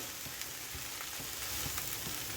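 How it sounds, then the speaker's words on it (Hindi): Shredded cabbage and vegetable filling for spring rolls is stirred and mixed in a hot pan, giving a soft, steady sizzle with light scraping strokes, fairly quiet and without voices. "अब इन सारी चीज़ों को अच्छे से हम मिला लेते हैं। चलाते हुए हम अच्छे से मिक्स कर लेंगे।"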